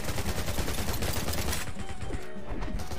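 Rapid bursts of gunfire in the zombie survival mobile game Garena Undawn, dense and continuous with crashing impacts, dropping slightly in the last stretch.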